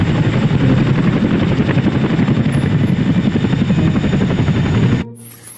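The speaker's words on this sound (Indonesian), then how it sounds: "ternyata yang ini helikopter militer" Toy military helicopter giving off a loud, steady whirring rotor-like buzz with a rapid pulsing flutter, running continuously for about five seconds before cutting off abruptly.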